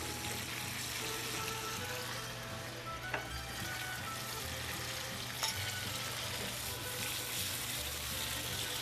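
Steady sizzling and bubbling of cherry tomatoes cooking in sauce in a pan, continuous and close, with a couple of faint clinks.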